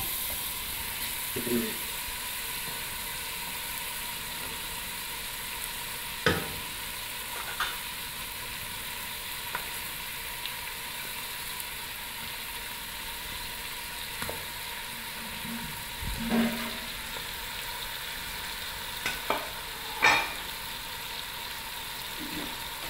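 Fish heads frying in masala for a fish head curry, a steady low sizzle with scattered scrapes and clinks as a spoon stirs and turns them in the pan over high heat.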